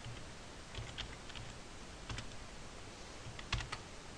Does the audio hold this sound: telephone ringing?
no